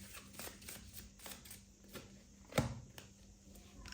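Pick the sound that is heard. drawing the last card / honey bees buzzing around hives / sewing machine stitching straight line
drawing the last card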